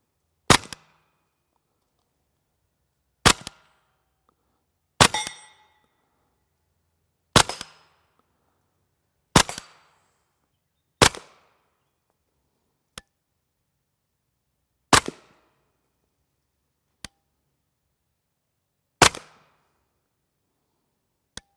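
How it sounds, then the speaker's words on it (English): Ten sharp, isolated 9mm pistol shots with IMI blue tip ammunition fire at steel gongs about 25 yards away. Each crack comes a second or two apart, and a faint metallic ring from the struck steel follows it. "We'll throw some of these at steel so you can see what they sound like."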